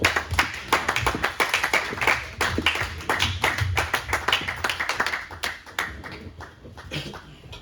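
A church congregation at a Pentecost retreat applauds to acclaim Jesus Christ, with dense, steady clapping from many hands that fades slightly toward the end.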